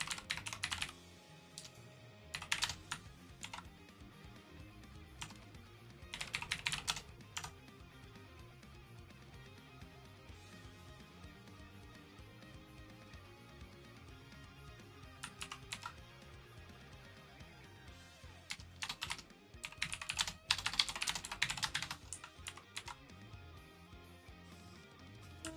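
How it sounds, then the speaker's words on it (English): Bursts of fast typing on a computer keyboard, short clusters of quiet clicks separated by long pauses, over a soft background of gentle game music. "And just some rapid typing as well."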